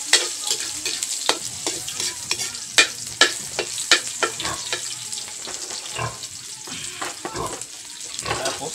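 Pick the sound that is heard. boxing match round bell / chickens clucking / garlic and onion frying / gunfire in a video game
garlic and onion frying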